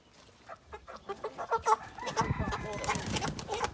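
Broiler chickens cluck and squawk in quick, agitated bursts on processing day, growing busier and overlapping toward the end, close by.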